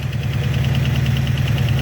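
A 289 V8 fitted with a Holley carburetor idles close by, its low rumble steady with a slight pulsing lope as the idle speed drops, heard alone.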